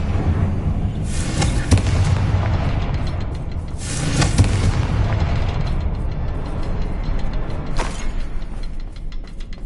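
Confringo spell blasts in Hogwarts Legacy: dense crackling fire and rumbling booms fill the scene continuously, with several louder bursts rising out of the steady roar.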